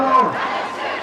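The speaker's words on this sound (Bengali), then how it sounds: "ধানের শীষের পক্ষে স্লোগানে মুখরিত হয়ে ওঠে পুরো সমাবেশ স্থল" Crowd of party workers at a BNP election rally in Gulshan, Dhaka, chanting slogans in support of the sheaf-of-paddy symbol, a loud, dense mass of voices filling a brief moment.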